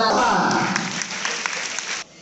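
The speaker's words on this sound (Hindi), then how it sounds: "ये लोग ऐसे ताली बजाओ" A group of students clapping together at a freshers meet in Udalguri, a dense, loud burst of applause that stops abruptly near the end, with voices mixed in.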